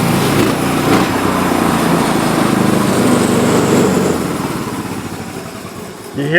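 A woodworking machine bites into a deck board, a steady loud mechanical roar that holds for several seconds and then eases off as the feed slows.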